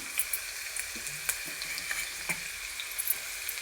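Onion frying in hot oil while making chilli oil, a soft continuous sizzle with a few light stirring taps and clicks, fairly quiet and close, with no voices.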